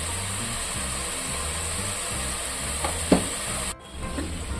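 Masala of tomato, chili powder and mint frying in oil in a pan, a steady loud sizzle running throughout, with a couple of brief stirring scrapes near the end.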